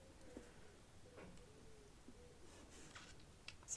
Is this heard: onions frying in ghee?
no